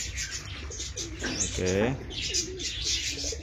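Fantail pigeon being released into the open, cooing in a soft rolling burst mid-clip over outdoor background noise, with a person speaking briefly.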